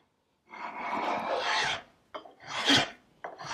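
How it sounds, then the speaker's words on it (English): A flat bottom spokeshave shapes a clamped wooden chair leg in several long rasping shaving strokes, close and loud, each separated by a brief pause. "So I got my flat bottom spoke shave here."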